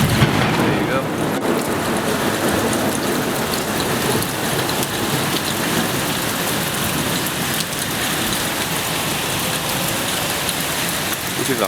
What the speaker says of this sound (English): the hail is coming inside with rain, so I have to close the window.